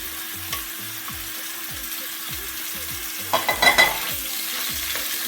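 Onions frying in bacon grease: a steady close sizzle runs throughout, joined by a short cluster of scraping stirs in the pan, with no speech.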